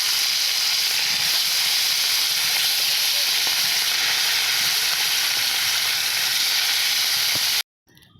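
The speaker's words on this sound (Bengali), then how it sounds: "কড়াই গরম হয়ে গেছে তেল দিয়ে দিচ্ছি মাছ ভাজবো তাই মাছগুলো দিয়ে দিচ্ছি" Salted pieces of rohu fish fry in hot oil in a wok, giving a loud, close, continuous sizzle and hiss with small pops, steady throughout until it stops abruptly at the end.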